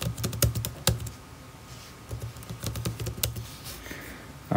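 Rapid, uneven keystrokes on a computer keyboard as a password is entered during controller setup for xLights and WLED, close and clear with short pauses between bursts of clicks.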